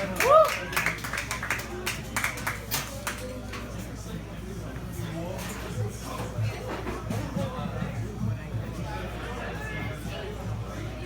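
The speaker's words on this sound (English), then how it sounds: "Let's clap it from all the way up to the stage" Audience clapping at a live show in a hall, with scattered hand claps and shuffling crowd chatter spread across the whole stretch, moderate and somewhat distant.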